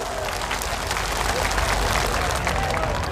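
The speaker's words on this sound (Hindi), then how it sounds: "सारे लोग हाथ उठा करके और ताली बजा करके समर्थन करिए।" Crowd applause at an outdoor political rally on a large ground in Patna, a steady dense wash of clapping filling the whole stretch with murmured voices mixed in.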